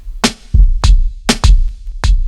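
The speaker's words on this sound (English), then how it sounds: "Hear that kick at the very end of it?" A short boom bap drum pattern with heavy low kick thuds and crisp snare hits, ending with an extra kick in quick succession.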